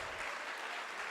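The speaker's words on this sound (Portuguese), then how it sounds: "Aplaudam com alegria." A church congregation claps during a praise service, producing a dense, steady wash of applause with no break.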